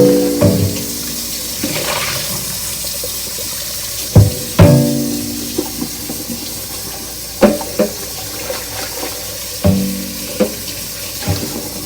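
A Bissell Big Green carpet cleaner's tank of dirty water is rinsed out in a sink, with running water and repeated sharp clunks and knocks of the plastic tank against the basin at irregular intervals.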